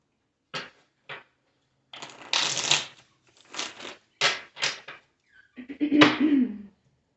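Tarot cards being shuffled in a string of brisk riffles and softer shuffles, close by, ending in a longer flurry.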